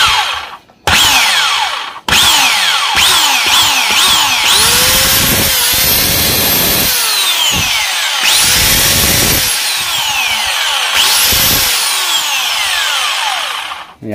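A Bosch GWS 750-100 angle grinder, smoking and overheating, is switched on and off repeatedly, each start a rising motor whine followed by a loud steady run, then a falling spin-down.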